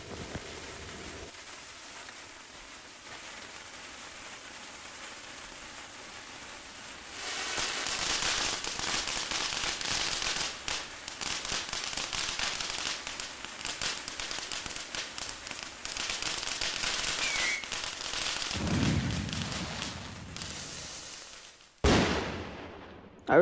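In the video game Fireworks Playground, a fountain firework sprays with a dense, continuous crackling hiss for most of the clip, rising after a quieter start and ending with a sharper burst.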